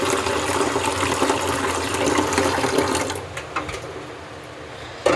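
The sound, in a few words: water being poured into a cooking pot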